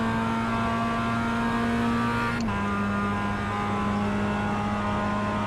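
A production race car engine in iRacing at Charlotte, running poorly, holds a steady drone, then drops abruptly to a lower pitch partway through and stays there.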